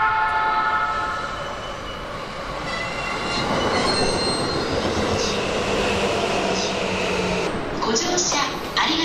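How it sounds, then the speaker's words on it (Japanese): Sobu Rapid Line train at Funabashi station in the morning rush, loud and close: rolling wagons with wheel squeal and rail noise running throughout, while station announcements and voices carry on in the background. "この電車は15両です。"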